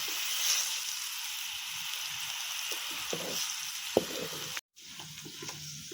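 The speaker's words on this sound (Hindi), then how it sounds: "थोड़ा पकाएंगे हम प्याज को ऑयल में।" Onions sizzle and crackle steadily in hot oil, close by, with a few light clinks of stirring.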